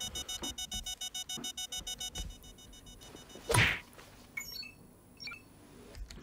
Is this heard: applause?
no